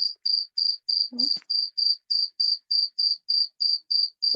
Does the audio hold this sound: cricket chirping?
yes